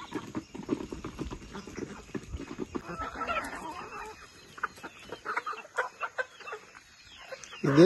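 Ducks feed noisily up close, with rapid irregular pecking and dabbling clicks mixed with soft quacks and shuffling.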